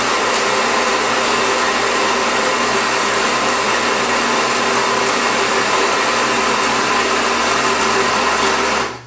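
An espresso machine pulls a double shot split two ways, giving a steady, loud mechanical whir and hum throughout that stops abruptly at the end, with no talking.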